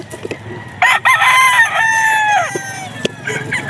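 Gamefowl stag rooster crowing at a pet market, one loud nearby crow with a rising then drawn-out falling call, preceded and followed by faint market noise.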